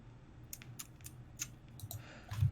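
A loud computer keyboard, sharp separate clacks spaced unevenly over a couple of seconds, close by, with a low background hum and no speech.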